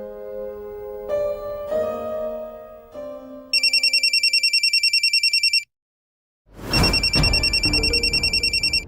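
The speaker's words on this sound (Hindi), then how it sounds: "ये चंदू का फोन मेरे मोबाइल पे क्यों आ रहा है?" A mobile phone rings loudly nearby, its electronic ringtone repeating in rapid pulses, stopping briefly, then starting again with no one talking over it.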